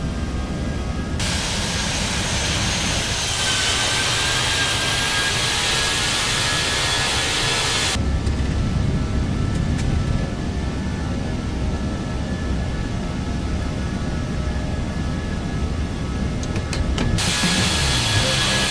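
A British Airways Airbus A320 jet in a flight simulator roars steadily through its takeoff run, a continuous loud engine drone whose tone shifts partway through as the light airliner lifts off quickly.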